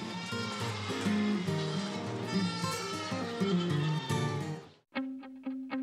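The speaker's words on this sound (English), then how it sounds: "We take very good care of our goats, and they give us very good milk in return." Goats kept for milk on a farm bleat in a dense, overlapping chorus of wavering cries, loud and close, followed by a brief pause and then a few more separate bleats.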